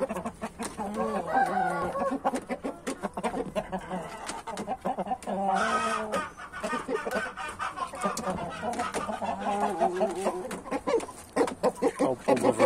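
Rooster clucks and crows up close, repeated calls in bursts with short pauses, alongside farmyard background noise.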